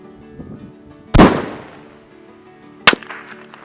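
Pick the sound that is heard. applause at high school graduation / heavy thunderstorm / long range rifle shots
long range rifle shots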